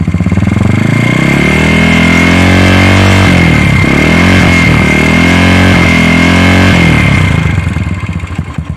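An engine revs hard and holds high toward 5,000 RPM through a modified exhaust, its loud, steady roar rising and dipping slightly in pitch, then easing off near the end, with no talk over it.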